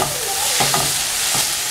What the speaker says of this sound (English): And just mix it in and let them cook for a couple minutes like this too.